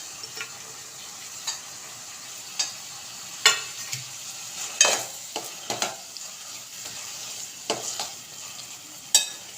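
Onions dropped into a frying gongura chutney mixture, followed by a series of sharp spoon scrapes and clicks against the pan over a low, steady sizzle, close and clear with no talking.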